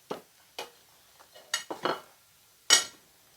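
Raisins and nuts being stirred into fruitcake cookie dough, a handful of separate scraping, clinking strokes of a utensil against a bowl, close and fairly quiet with pauses between them.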